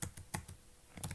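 Brisk bursts of computer keyboard typing while a short Python script is entered, a quick cluster of keystrokes, a pause, then two more close clicks; near, fairly quiet, no talk over it.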